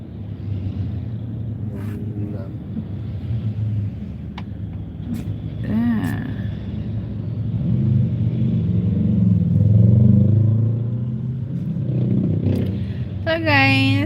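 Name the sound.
heavy road traffic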